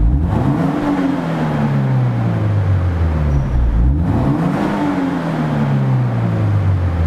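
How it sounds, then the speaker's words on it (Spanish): A car with a stock exhaust revs twice, each time climbing to high rpm and then falling back, loud and close with no voices. "Me gustaba el sonido de mi coche en altas vueltas"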